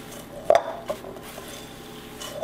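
Granola being stirred together with coconut, walnuts and almonds, a few soft scraping and clinking strokes with one sharper knock near the start, otherwise faint and quiet.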